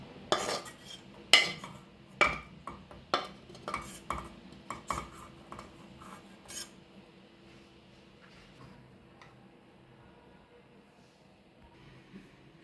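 Metal spoon stirring grated coconut into a Konaseema-style sesame and drumstick-leaf powder in a vessel: a run of sharp, close clinks and scrapes for several seconds, then fading to near quiet.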